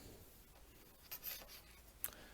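Chalk scraping across a blackboard while a graph is sketched in a lecture on RLC circuits and resonance, a few faint, brief strokes and taps in a quiet room.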